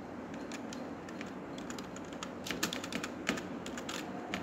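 Steady typing on a computer keyboard while entering text in Microsoft Word, rapid continuous key clicks over a constant background hiss, close and moderately loud with no voice.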